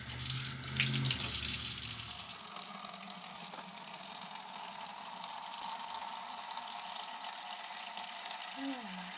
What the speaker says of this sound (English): So I'm just going to use some hot tap water.